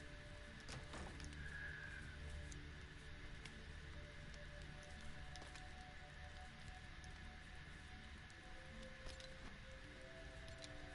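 Steady rain patters on surfaces in a video game, a faint, even hiss of drops with a few sharper ticks, no voices over it.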